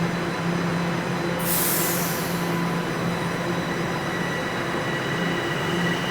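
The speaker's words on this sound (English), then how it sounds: "there goes a northbound Line 1 train" A northbound Line 1 subway train passes through Queen Station in downtown Toronto, a loud continuous roar and rumble with a brief hiss of air brakes.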